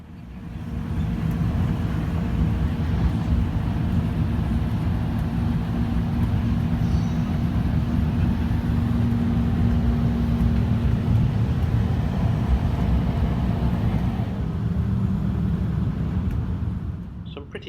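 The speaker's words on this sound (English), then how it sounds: "it's probably better not to sit at the end nearest the engine, as it's pretty noisy" Steady, loud low rumble of the Snowdon Mountain Railway engine hauling a train up a steep incline, droning continuously under the carriage for most of the run before easing slightly near the end.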